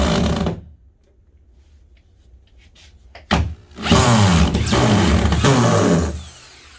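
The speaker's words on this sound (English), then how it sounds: "he's going to put some screws in" A power drill drives screws into a wooden frame for a vertical corner craft organizer, first a brief whir, then after a quiet gap a loud sustained run of motor whine with pulsing spin-up and slowdown, close up, no talking.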